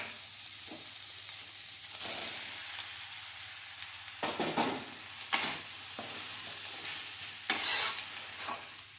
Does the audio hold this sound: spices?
yes